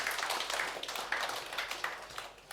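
An audience at a conference applauds a speaker with steady, fairly faint, distant clapping that continues throughout with no talk over it.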